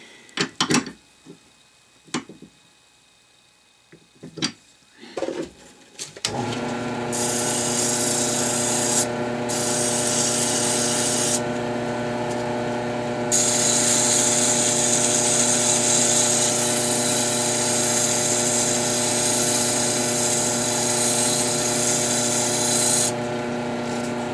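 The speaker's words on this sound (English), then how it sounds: "Now when I sand, I generally like to do 3 flaps, then the sandpaper doesn't move around on you." A wooden shaving brush handle spinning on a lathe while being sanded, a steady motor hum with a hissing rub of sandpaper that comes and goes, preceded by a few knocks and handling clatters.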